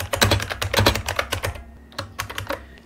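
A computer keyboard clatters with rapid, close keystrokes as a note is typed, a dense burst of clicks, a brief pause, then a few more taps, with no voices.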